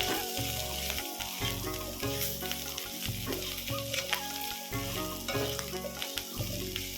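Boiled jackfruit pieces fry in hot oil in a kadai, a close, steady sizzle punctuated by rhythmic stirring knocks and scrapes, with no speech.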